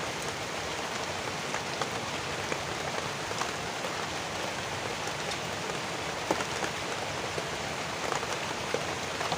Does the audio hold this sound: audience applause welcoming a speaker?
no